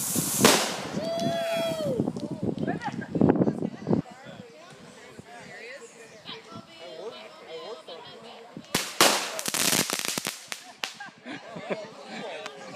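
A firework-powered model car blows up in a sharp loud bang near the start, followed by scattered pops and a second burst of cracking explosions later, with people talking outdoors in between.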